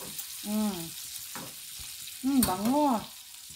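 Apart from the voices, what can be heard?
fish frying in oil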